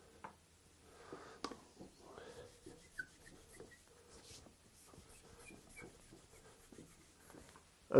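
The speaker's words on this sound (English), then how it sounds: "I'm cleaning my diamond stones, just a little tip, with a eraser." An eraser rubs over diamond sharpening stones in a quiet workshop, making soft, close scrubbing strokes in an uneven rhythm, with faint background rustle.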